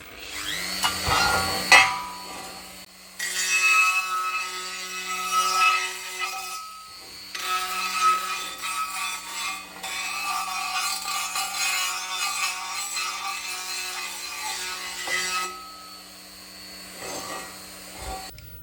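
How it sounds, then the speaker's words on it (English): Roll mops spinning in a drill to deburr a freshly drilled hole in metal tooling, a high whirring grind in long bursts separated by brief pauses, close and loud with no talk. "So we'll just use our roll mops, I call them, to deburr our hole."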